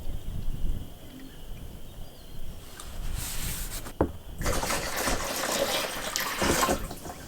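Simple Lawn liquid fertilizer pours into a sprayer tank with a steady splashing trickle that grows fuller and louder partway through.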